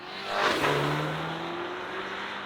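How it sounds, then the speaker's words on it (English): A Mini Countryman John Cooper Works pulls away on the road, its engine rising in a revving whir that swells quickly and then holds as a steady drone. "Okay, so we've just hit the road in the Countryman John Cooper Works."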